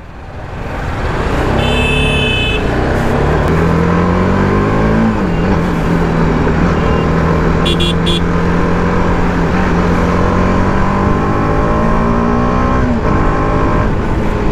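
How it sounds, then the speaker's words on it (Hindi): TVS Apache RR 310 BS6 motorcycle in track mode starts up, then its engine revs hard and climbs steadily through sustained loud, close high-pitched engine whine, with no talking. "अभी अपन तुरंत बाइक को करेंगे ऑन।"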